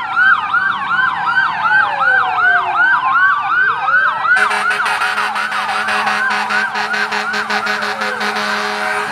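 Fire truck and emergency sirens wail continuously at a large fire on Visayas Avenue, Quezon City, first a rapid yelping sweep, then layered wailing tones with engine rumble, loud and sustained.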